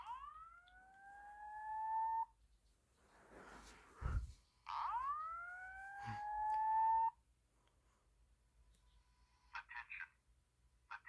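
A fire alarm speaker strobe on a test board sounds its evacuation tone: two rising whooping sweeps that hold steady before cutting off, with a thump between them and faint electronic chirps afterward.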